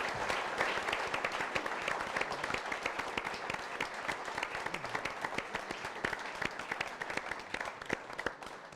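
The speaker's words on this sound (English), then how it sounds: "So if you could just give a round of applause just for everyone for taking part in it." Sustained audience applause for the panellists at a 2019 Portsmouth election hustings held at a university, a dense, steady wash of many hands clapping throughout, moderately loud with no speech.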